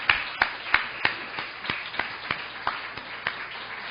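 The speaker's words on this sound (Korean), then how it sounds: "하나님께 영광의 박수를." Rhythmic unison clapping from a church congregation during an evening worship service, about a dozen crisp, evenly spaced claps at a steady beat, moderately quiet and heard in a reverberant hall without talk.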